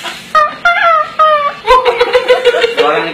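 A man vocally imitates assorted chickens, first a few short separate clucks and crows, then a longer rapid run of chattering calls, close and fairly loud.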